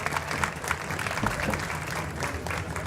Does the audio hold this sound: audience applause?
yes